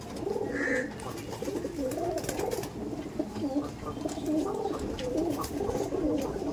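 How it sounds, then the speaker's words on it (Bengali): Madrasi pigeons kept at a home loft coo in low, rolling, repeated phrases, fairly close and steady over a soft background hum. "সব ধরনের ম্যাড্রাসি পায়রা ও আপাতত রাখা আছে কাছে"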